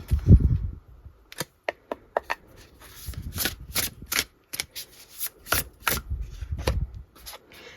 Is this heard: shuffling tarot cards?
yes